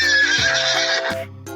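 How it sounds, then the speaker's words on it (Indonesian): A horse neighs loudly and close, a long quavering whinny that breaks into shorter falling bursts, ending with a brief final call. "Ternyata itu seekor kuda."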